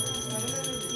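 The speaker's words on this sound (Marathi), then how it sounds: "घंटी वाजवा" A hand bell rings during a puja ritual at a jagran gondhal ceremony, a continuous bright metallic ringing with sustained high tones, close and steady for about a second.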